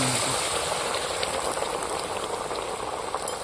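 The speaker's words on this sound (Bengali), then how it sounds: "এইবার আমি গরম ফুটন্ত জলটা ঢেলে দিচ্ছি" Boiling hot water pours steadily for egg cooking, a continuous loud bubbling hiss from start to finish with no talk.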